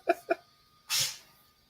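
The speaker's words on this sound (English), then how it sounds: "That's how he sneezes all the time." A man sneezes in an odd way, with two short sharp bursts followed by a longer breathy blast, all close and moderately loud.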